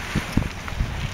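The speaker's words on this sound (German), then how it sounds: "Hier kommt aber richtiger Wind auf." Strong wind buffeting the microphone at a lakeside by Lake Constance near Langenargen, a continuous roar with several low rumbling gusts over about a second, close and loud, no speech.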